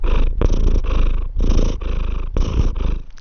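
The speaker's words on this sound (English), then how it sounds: "my cat has decided that he needs to play with my mouse hand" An orange cat named George purrs loudly and close up, a steady rumbling purr broken into rhythmic breaths, with no talk over it.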